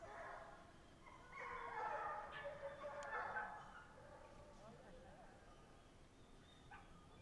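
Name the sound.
hunting dogs barking as they come out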